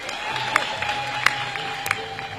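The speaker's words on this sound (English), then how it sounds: "Clap for others not mentioned." A graduation audience at Kampala University claps together, an even wash of applause with a few crisp louder claps and faint cheering in a reverberant hall.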